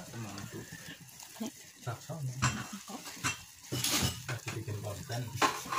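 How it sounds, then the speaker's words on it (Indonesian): A spoon stirs a pudding jelly mixture in a pot over medium heat, giving scraping and clinking against the pan with a faint sizzle, close and fairly steady, with a voice talking over it. "Lalu kita masak bahan-bahan ini dengan api yang sedang sambil terus diaduk-aduk"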